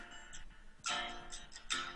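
A clock ticks in a few sharp, crisp clicks spaced slightly unevenly over a quiet, hissy background, fairly close and alone.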